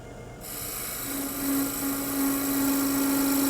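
A spindle detail gouge making light cuts on the end-grain wood lid of a lidded box spinning on a lathe, giving a steady whirring scrape with a faint tonal hum, continuous and close, with no talking.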